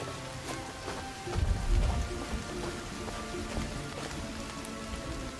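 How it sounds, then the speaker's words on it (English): Steady rain falling in the survival game Sons of the Forest, a continuous wash of patter on surfaces with a brief low rumble partway through, heard alone at moderate level. "Is it raining?"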